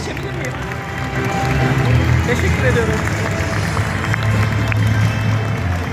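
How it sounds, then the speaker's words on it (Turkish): Applause from an audience at a Turkish school science award ceremony, with a steady wash of clapping that thickens after the first second, while a voice speaks briefly over it. "Hadi kuvvetli bir alkış."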